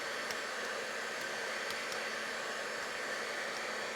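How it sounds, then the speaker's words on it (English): Heat tool blowing hot air to dry seam binding at a craft table, a steady faint hiss of airflow running unbroken throughout. "give it a little dry with my heat tool"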